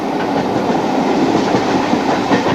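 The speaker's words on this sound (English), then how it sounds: "That's the West Highlander steam train service." The West Highlander steam train, photographed in 1990 near Ben Nevis, rolls past with a steady, loud rumble and rail clatter that fills the whole stretch, with no voices.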